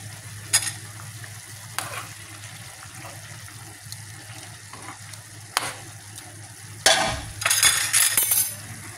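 A homemade dish seasoned with soy sauce sizzles steadily in a pan, with occasional utensil clinks and stirring scrapes, then a louder burst of frying and clattering near the end.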